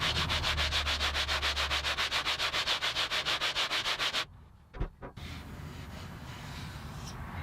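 Sandpaper rubbed back and forth over a wooden guitar rim in quick, even strokes, a close rhythmic scratching of about thirty passes, then a pause with a soft knock and fainter shuffling afterward.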